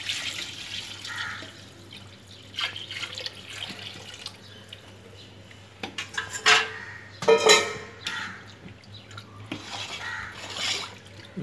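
Liquid poured into a large pot of two-kilogram chicken biryani, a close, intermittent splashing and trickling with a few soft metallic clinks from the vessel, no voices.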